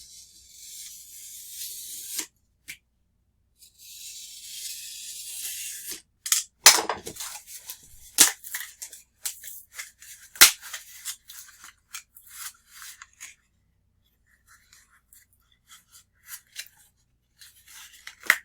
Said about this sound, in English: We're just slicing the top sheet of paper.